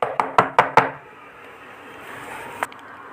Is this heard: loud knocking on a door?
yes